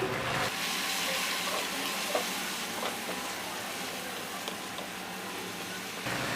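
Ginger-garlic paste and chili paste fry and sizzle in hot oil in a pulao pot, with steady stirring scrapes heard close up throughout.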